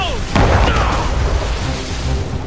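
Ship cannons in Assassin's Creed Rogue let off a single loud, heavy boom shortly after the start, followed by a rumbling tail and a roaring naval battle backdrop.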